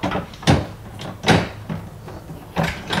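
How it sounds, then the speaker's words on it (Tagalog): Wheeled cabinet drawers being pushed and slid into a newly built cabinet, giving three loud, distinct bumping knocks spaced about a second apart with no talking. "Magkakaalaman na tayo kung papasok ang mga drawer natin."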